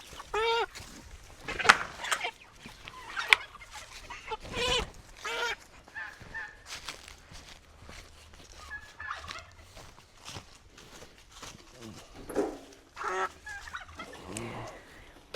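Pastured chickens kept in chicken tractors squawk and cluck in loud, irregular bursts as they are grabbed on processing day, with scuffling and handling noise between the calls.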